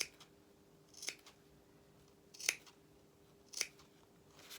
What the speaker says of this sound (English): Again, seam allowances, let's just trim those back.